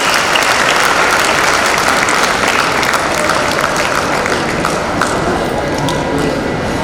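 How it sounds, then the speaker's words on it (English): Audience at a school annual day celebration claps continuously, a dense, loud, steady wash of many hands applauding without pause throughout. "give them a big round of applause"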